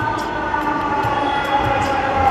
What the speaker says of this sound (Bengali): আমাদের মেট্রো আসছে